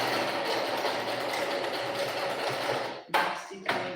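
A sewing machine runs steadily, stitching stretchy elastic with a continuous close whirring buzz, then stops and restarts in short bursts near the end.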